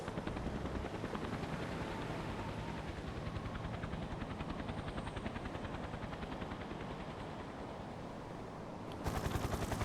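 A helicopter's rotor thumps in a steady rapid chop, loud and continuous throughout, with a brief shift in tone near the end, in Antarctica.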